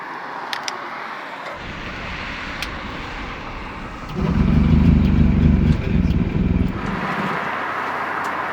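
A Goggomobil engine without spark splutters into a rough, loud low rumble for a few seconds and then dies away, followed by fainter mechanical noise and background hum.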